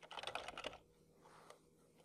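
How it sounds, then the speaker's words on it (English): A computer keyboard clatters in a quick burst of close keystrokes, then falls quiet apart from one last faint tap. "let's just type in hello and see what we get"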